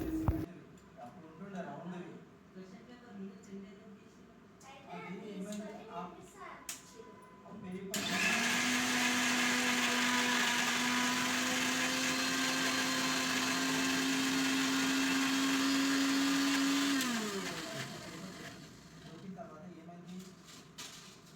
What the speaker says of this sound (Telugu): సో ఇక్కడైతే వేసేసుకొని నేను మిక్సీ పట్టుకుంటున్నాను